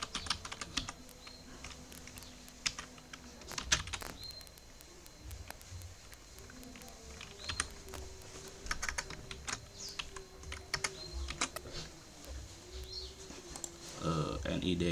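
Rapid keyboard typing while data is entered into a lecturer table in an Oracle 10g database, clicking steadily for the full stretch, with scattered louder keystrokes and a faint tone and bird chirps in the background.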